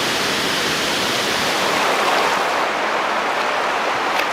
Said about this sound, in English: that waterfall is definitely worth a visit, definitely worth a swim